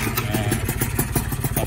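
A Suzuki Satria motorcycle engine runs close by right after being started with the electric starter, a steady, rapid mechanical beat with clattering ticks throughout, fairly loud and with no talk.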